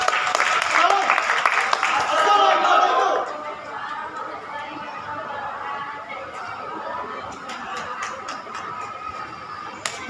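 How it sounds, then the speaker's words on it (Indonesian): An audience at a Betawi cultural festival stage claps for the couple on stage, a loud burst of applause mixed with chatter that drops after a few seconds into quieter crowd murmur and scattered claps. "Tepuk tangan untuk mereka."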